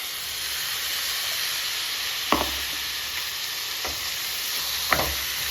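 Banana blossom and cowpea thoran frying in a pan under a steady sizzle, with three distinct spatula scrapes and knocks as it is stirred.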